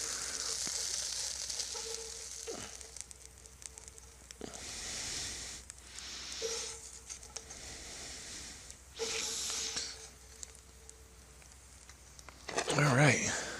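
Venison browns in a cast iron pot with a quiet, uneven sizzle that swells and fades over several seconds. Occasional scraping and a louder clatter come near the end.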